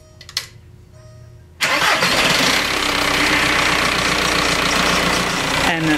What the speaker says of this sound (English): And I'm ready to start up the vehicle.